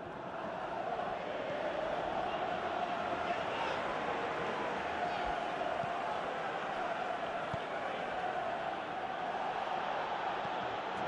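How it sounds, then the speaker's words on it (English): Steady crowd roar from a stadium in Pro Evolution Soccer 2018, a football video game, holding a broad, continuous swell throughout with slight rises and falls, loud and unbroken. "you can feel and hear how the crowd are reacting to all of this"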